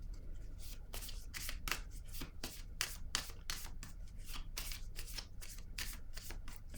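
Tarot cards being shuffled by hand before another card is drawn, a steady run of quick papery riffles and slides close by with no voices.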